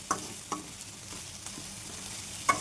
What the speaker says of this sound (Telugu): స్టవ్ ఆన్ చేసుకొని కడాయి పెట్టుకొని ఆయిల్ పోసుకొని బెండకాయలు వేసుకొని జిగురు అంతా వెళ్ళేదాకా వేయించుకోవాలి.